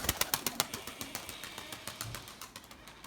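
Melemen testisi tumbler pigeons, a breed from Melemen in İzmir, with a female tumbling in flight: a rapid, evenly spaced run of sharp claps, loud and close at first, then gradually fading, with no voices.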